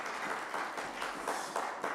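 A church congregation in Australia claps during a Sunday worship service after a special hymn, a moderate, even patter of hands that swells slightly in pulses over a couple of seconds.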